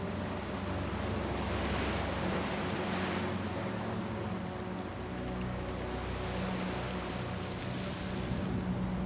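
Continuous ocean surf from the video game Banishers, a broad steady wash of breaking waves layered over low, sustained background music with a slight wind-like rush.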